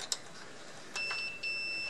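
A continuity tester beeps twice while checking a radiator electrical fault, a short beep followed by a longer steady one, a high thin clear electronic tone over quiet room hiss.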